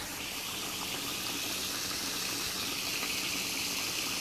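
Food fries in a pot of hot oil at home, giving a dense, continuous close-up sizzle and crackle that stays loud and steady throughout.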